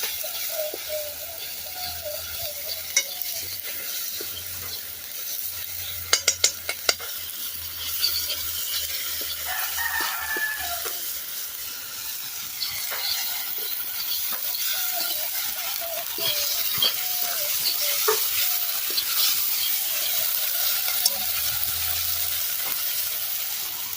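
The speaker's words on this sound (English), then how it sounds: "I fry the natural seasonings in my piece properly before we add in the mackerel" Natural seasonings fry in a pot outdoors, a steady low sizzle and crackle with occasional scraping stirs and wooden knocks, moderately close with no talking.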